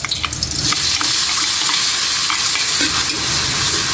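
Garlic, onion and tomato sauté in a pan for squid adobo, a loud, dense sizzle with stirring scrapes and an initial burst as the food hits the hot oil, no talking.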